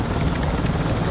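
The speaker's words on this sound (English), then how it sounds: "We will be your heavy chopper" A heavy helicopter in Call of Duty Warzone 2.0 beats steadily and fairly close, a continuous rotor thrum filling the short moment.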